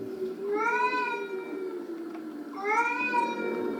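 Two drawn-out cat meows from a Peppa Pig Halloween read-aloud, each a clear rising-then-falling wail with a short pause between, close and prominent with no talk over them.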